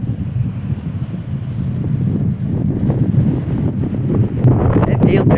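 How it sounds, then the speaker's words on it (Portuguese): Strong wind gusts on a coast battered by a bomb cyclone in Rio Grande do Sul, roaring and buffeting the microphone with a loud, continuous low rumble that swells toward the end, with rough sea noise beneath. "É vento, quando dá essas rajadas assim, é muito vento."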